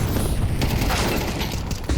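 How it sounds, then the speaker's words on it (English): Flashbang grenade detonating in Counter-Strike during an esports match, a loud dense burst of blast and crackle filling the short moment alongside other gameplay noise. "Oh, and the flashbang, brilliant."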